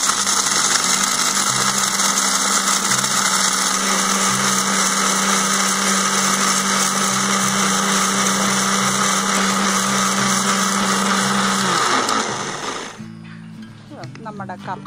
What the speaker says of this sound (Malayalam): ഇത് നമ്മൾ മിക്സി ഒന്ന് കറക്കി പൊടിക്കാൻ എടുക്കുവാണ്